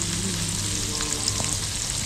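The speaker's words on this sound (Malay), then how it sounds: "Nasi goreng" Nasi goreng fried rice sizzles steadily in a hot pan as it is stir fried, a close, continuous crackling hiss with occasional scraping from stirring.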